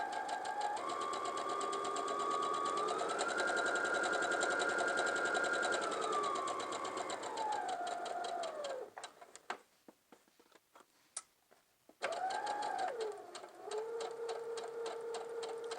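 A sewing machine runs steadily, stitching a lined pencil skirt with a whirring tone that rises and falls in speed. It stops briefly into near silence with a few clicks, then resumes, close and clear without talk.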